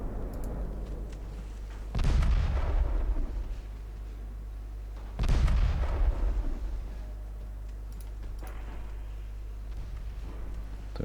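Secondary guns on warships firing in the naval battle game Ultimate Admiral Dreadnoughts, two heavy booming volleys a few seconds apart over a steady low rumble, with a fainter shot near the end.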